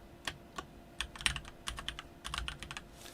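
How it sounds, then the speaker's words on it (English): Quiet typing on a computer keyboard, a run of sharp, irregular key clicks in quick bursts with brief pauses, close and clear with no voices. "I'm also the worst at typing while doing these"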